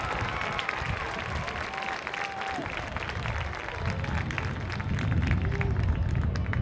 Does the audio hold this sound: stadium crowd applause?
yes